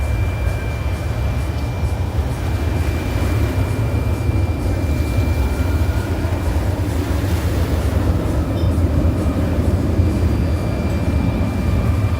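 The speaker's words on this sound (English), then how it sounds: "Either little puddle jumper from St. Bart's or private, maybe private jet." A small propeller plane or private jet lands at Maho Beach, St. Maarten, making a steady, loud, broadband roar and low rumble that holds for the whole stretch with no voices.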